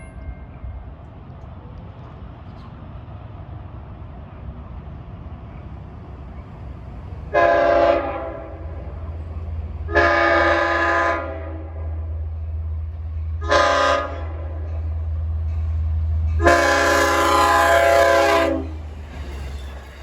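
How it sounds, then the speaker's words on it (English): Long Island Rail Road diesel passenger train 608 approaches Greenlawn on the non-electrified Port Jefferson Branch. It sounds four loud horn blasts, long, long, short, long, over a rising low engine rumble as it nears. "approaching eastbound at 10:31 is train 608 en route from Jamaica to Port Jefferson"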